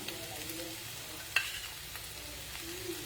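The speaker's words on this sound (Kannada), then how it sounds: "ಸೊ ಇವಾಗ 1 ಸ್ಪೂನ್ ಆಗೋಷ್ಟು ಕರ್ಡ್ ಹಾಕೋಣ." Curd is stirred into a dish sizzling in a pan, with a soft scrape of the spoon and a brief clink amid steady frying.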